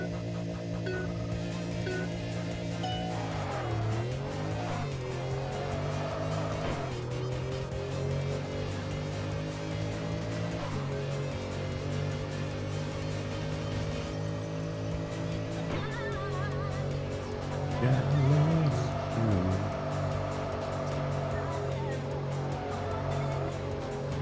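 Car engine droning steadily in Tokyo Xtreme Racer: Drift 2 during a test drive, with revs rising and falling through gear changes and a brief tire squeal, loud and continuous for the whole stretch.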